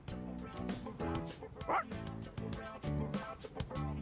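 In the video game Persona 3 Reload, a dog gives a few short yips and a brief whimper at moderate volume over a steady looping music bed, with no speech.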